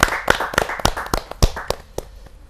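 An audience at a Hindi comic poetry gathering gives a hearty welcome round for a humorous poet, with a burst of loud, irregular clapping that thins out and fades toward the end.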